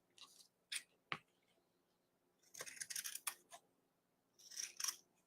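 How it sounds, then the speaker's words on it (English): Scissors cut straight across a sock at the ankle in a series of close, crisp snips and crunches that come in short clusters separated by quiet gaps. "lay out your sock, and you're going to cut where the ankle is straight across"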